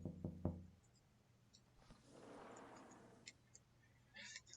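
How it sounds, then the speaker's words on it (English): Three sharp knocks on a door ring out close together at the start, followed by steady rain and scattered faint clicks. "Knowing this to be the right place, I knock."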